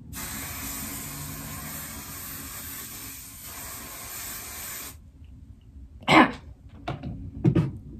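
An aerosol hairspray hisses steadily for about five seconds, then stops, followed by a couple of short coughs.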